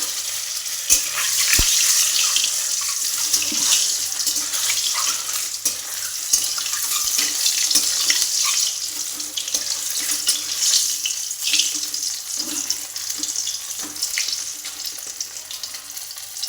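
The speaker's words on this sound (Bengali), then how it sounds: "ডিম দুটো ভেজে নেব" Two eggs fry in hot oil for an egg curry, making a steady, close crackling sizzle with small pops throughout and no talking.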